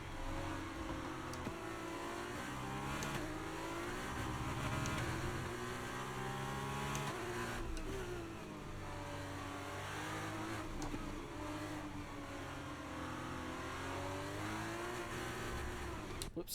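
A race car engine in the F1 23 video game revving hard on throttle, a loud continuous whine rising and falling in pitch with gear changes and acceleration, close and dominant throughout.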